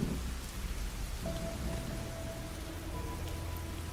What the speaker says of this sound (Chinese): 居然当真下雨了，实在是不可思议。